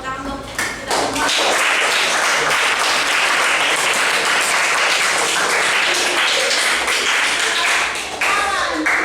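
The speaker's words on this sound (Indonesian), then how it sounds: "beri tepuk tangan untuk kita semua." A class of students applauds in a classroom after their presentations, a dense burst of clapping that stays loud and steady for several seconds, with a few voices near the start and end.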